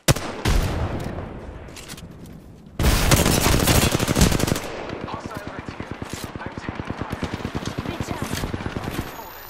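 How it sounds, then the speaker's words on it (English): Video-game gunfire crackles in dense automatic bursts, loudest in one sustained heavy volley partway through, then continues as rapid rhythmic shots while a voice speaks over the action. "I'm getting shot at."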